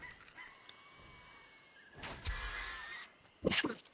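Birds squawking in the survival game ARK Survival Evolved: faint, brief honking cries with a couple of louder bursts toward the end, heard quietly over a low game background.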